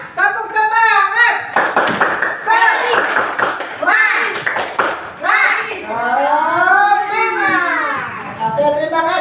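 A class of children joins in a rhythmic clapping chant, sharp hand claps in patterned bursts mixed with loud sung and shouted voices, close and lively throughout.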